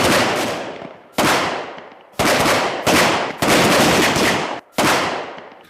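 Bursts of automatic gunfire during army training, about five or six loud sustained volleys separated by short pauses, close and harsh, with no talk.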